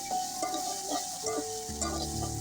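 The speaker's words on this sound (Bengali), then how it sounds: "কষিয়ে নিব মশলাটাকে।" A spice paste of coriander, turmeric and chili powder is stir-fried in a pan, a steady close sizzle broken by scraping stirs and light clinks, with a low hum entering near the end.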